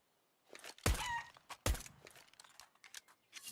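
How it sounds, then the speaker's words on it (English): A chicken clucks and flutters on the Inferno map of Counter-Strike, a few sharp thuds and short clucks close by with quiet gaps between. "This chicken sounds everywhere."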